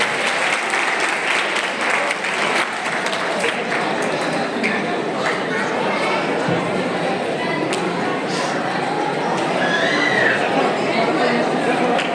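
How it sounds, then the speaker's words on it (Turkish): Wedding guests at a civil marriage ceremony in Turkey give sustained, dense applause that fills the room steadily and evenly, with faint chatter underneath. "Yıldırım Belediye Başkanımız Sayın Oktay Yılmaz Beyefendi'yi güçlü alkışlarımızla nikah masamıza davet ediyoruz efendim"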